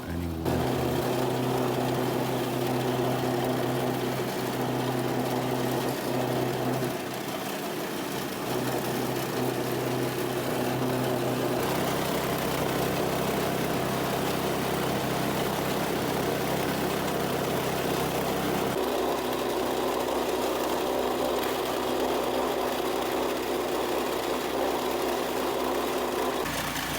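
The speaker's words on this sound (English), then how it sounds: "After processing our cassava tubers in the grater" A cassava grater machine shredding cassava tubers runs as a steady, continuous motor drone with a constant grinding hum, loud and close, its pitch shifting slightly partway through.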